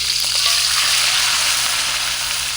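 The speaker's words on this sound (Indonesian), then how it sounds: "kita goreng" Freshly caught seafood, including hermit crabs, fries in a pan at an island campsite, giving a loud, steady, close sizzle with no break and a constant bright crackle.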